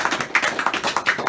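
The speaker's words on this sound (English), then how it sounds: "let's give just one big final clap" An audience in a room gives one big final round of applause, a dense, steady patter of many hands clapping together for the whole moment, fairly close and with no talking.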